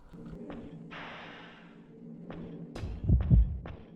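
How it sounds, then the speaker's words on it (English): Muffled heartbeat in an RPG soundscape, a few soft rhythmic thumps building to heavier low pulses over dark ambient hum. "I hear a heartbeat."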